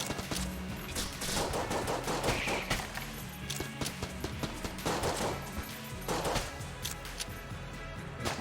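A fast-firing weapon in a dungeon video game lets off repeated sharp shots in steady clusters, loud and busy throughout the stretch with game noise layered beneath.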